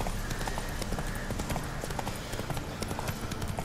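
Horse hooves clip-clop in a steady walking rhythm in the video game The Witcher 3, close and clear over a low ambient game background.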